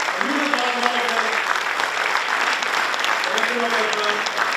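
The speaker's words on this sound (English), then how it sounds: "A huge applause for all of them." Sustained applause rolls through a university conference hall at Amity, Greater Noida, honouring the directors, while a voice speaks over the clapping at the start and again near the end.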